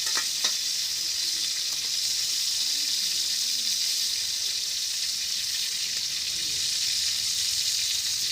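Onion frying in oil in a pan, a continuous close crackling sizzle that holds steady throughout, with a brief knock near the start and no voices.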